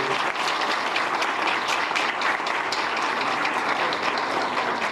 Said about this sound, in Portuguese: Então uma salva de palmas, né?